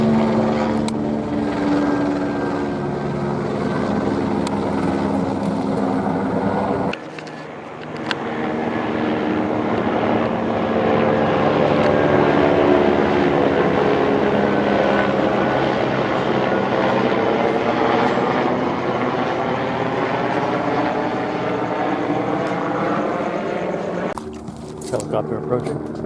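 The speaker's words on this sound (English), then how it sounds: "Helicopter approaching." Silver and gray LAPD police helicopter passing low overhead, a steady loud throbbing rotor drone that holds for most of the stretch, with a brief dip partway through.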